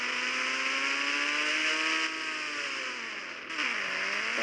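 A motorcycle engine revs in the Indian Bike 3D video game, a steady loud droning whine that holds its pitch, then dips and climbs again near the end.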